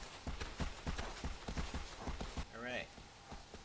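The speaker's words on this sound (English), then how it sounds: "God damn, I've realized I'm riding a pony." Pony hooves gallop in Shadow of the Colossus, a steady rhythmic clip-clop at a quick pace, with a short vocal sound near the end over the hoofbeats.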